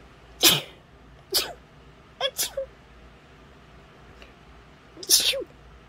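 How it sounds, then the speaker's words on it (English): A few short, sharp sneeze-like bursts, separated by pauses of quiet, fairly close and moderately loud. "I all of a sudden got the need to sneeze."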